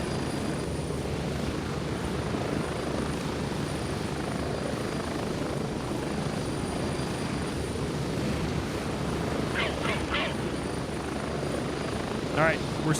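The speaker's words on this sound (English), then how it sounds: "This is quite literally the longest helicopter flight in the game" Continuous close rotor thump and turbine hum of a helicopter on an air assault flight in the shooter Gray Zone Warfare, holding level for the whole stretch, with speech over it and a few brief sharp chirps near the end.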